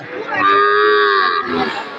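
A single loud, drawn-out moo from a Sahiwal bull calf at a cattle market, close by, rising and then trailing off over about a second and a half.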